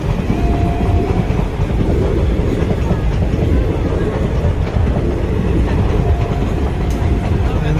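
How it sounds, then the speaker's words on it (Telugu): A passenger train running from Tenali to Repalle rolls past Chandravaram station, a loud, close, continuous rumble of wheels and carriages with faint rhythmic clatter throughout. "తెనాల నుంచి రేపలు వెళ్తున్న రైలు చంద్రవరం స్టేషన్ దగ్గర"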